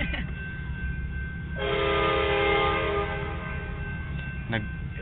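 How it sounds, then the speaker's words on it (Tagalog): A train rumbles past on the railroad at Oceanside with a loud horn blast sounding partway through over the steady rolling noise. "May dadaan na tren."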